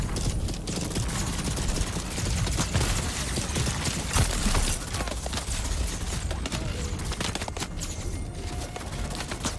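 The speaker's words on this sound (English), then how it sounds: "Somebody's throwing a grenade. Yep, and he got me." Gunfire and a grenade explosion ring out in the Dune video game, a dense burst of shots and blasts over a busy, noisy background at moderate level, with no talk.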